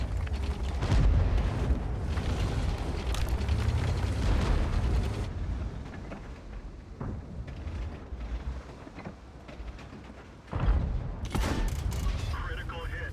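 Tank cannon fire and explosions in World of Tanks, with a Skoda TVP T50/51 fighting on the Ruinberg map: loud, dense booming and rumbling that ease in the middle, then a sharp blast near the end, with a voice talking over it.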